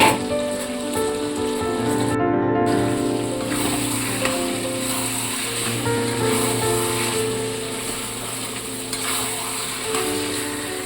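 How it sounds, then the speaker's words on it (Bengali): A pan of fried potatoes with chicken curry masala sautés with a loud, continuous sizzle like rain on a surface, close up, steady throughout and without speech. "চিকেন কারি মশলা দিয়ে দিতে হবে এবং ভেজে রেখা আলুগুলো এর মধ্যে দিয়ে ভালো করে কিছুক্ষণ কষিয়ে নিতে হবে"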